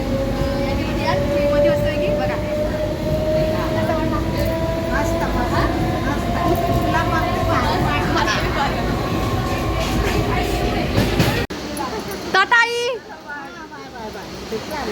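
Moving passenger train nearing Hamrapur station, heard from inside the carriage as a loud continuous rumble and rattle with a rising whine, while someone talks over it, then a sudden drop to quieter clatter near the end.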